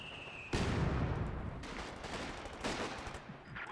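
Rapid automatic machine-gun fire in Company of Heroes 2 rattles on steadily beneath a loud battlefield din, with a few sharper shots and impacts scattered through it; no one speaks.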